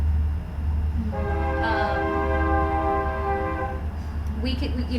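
A train horn near a farm sounds one long sustained blast for about three seconds over a low rumbling background, fairly close and loud.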